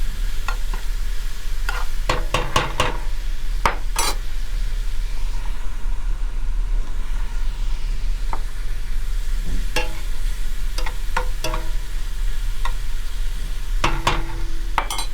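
Oxtail ragu cooks down on high heat with a steady sizzle, while a spoon scrapes and stirs the pot in sharp, close clacks at irregular intervals throughout.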